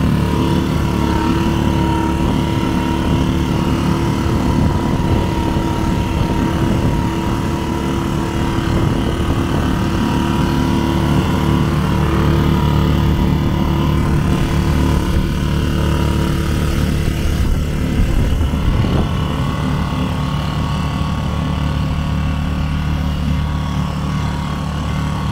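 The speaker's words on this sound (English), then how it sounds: "Now with this 2 horsepower, I think for this particular dinghy, a four would be ideal." A 2 horsepower outboard motor pushes an inflatable dinghy along the Miami River, droning steadily and loudly for the whole stretch with a constant engine hum and water noise.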